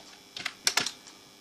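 A computer keyboard clicks in a quiet room: a brief cluster of close, crisp keystrokes, then a few softer taps.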